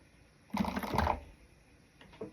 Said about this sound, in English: I'm going to hold my threads, and I am going to do a back stitch at the beginning of the end.